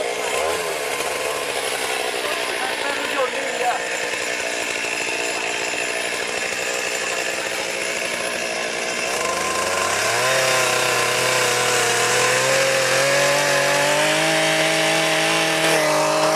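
A chainsaw cuts through a rhino horn during a dehorning in the African bush, a loud continuous buzzing drone that shifts pitch midway as the engine revs higher under load.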